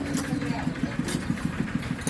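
A farm tractor engine idles nearby with a steady, rapid chugging pulse while being parked, with voices talking faintly in the background.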